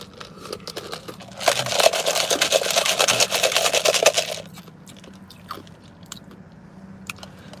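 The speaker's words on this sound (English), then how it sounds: "Somebody told me you're not supposed to chew ice." Someone chewing ice, a loud close burst of rapid crunching and biting for a couple of seconds, then quieter scattered crunches against a faint background hum.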